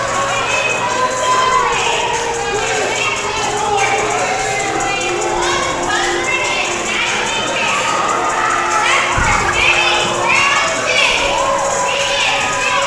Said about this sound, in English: you can hear the crowd, Kevin. They love them.